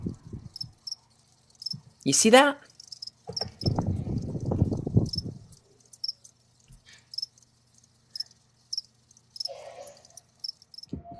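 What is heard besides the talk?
crickets chirping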